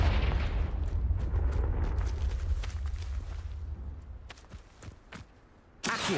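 Confringo blasting spells in the Hogwarts Legacy video game land as a burst of booming, rumbling explosion noise that fades away, followed by scattered sharp impacts and a final loud burst.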